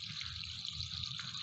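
Water drains steadily from a hot water heater being emptied for replacement, making a continuous hissing, splashing rush that holds at an even level throughout.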